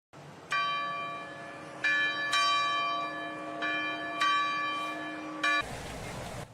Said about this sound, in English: Can hear the church bells there echoing throughout the city at 12:49 p.m.